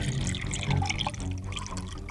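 Water is poured into a glass during a home meal, a steady, continuous splash and trickle at moderate volume that lasts about two seconds with no voices.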